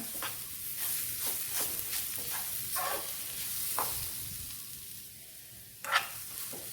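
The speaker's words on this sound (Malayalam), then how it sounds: "ഫ്ലെയിം വളരെ കുറച്ച് വെച്ച് വേണം ഈ ചമ്മന്തി അതിലേക്കിടാൻ" Pappad chutney frying in a pan over a very low flame, a steady soft sizzle with occasional crackles and pops, including a sharper one near the end, with no talking.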